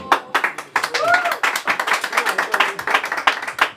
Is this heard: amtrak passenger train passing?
no